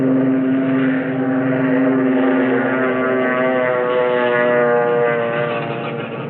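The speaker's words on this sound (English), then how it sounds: "That torpedo bomber is taking off." A Japanese torpedo bomber takes off from the aircraft carrier Akagi, its propeller engine giving a loud, steady droning roar that holds for several seconds and eases slightly toward the end.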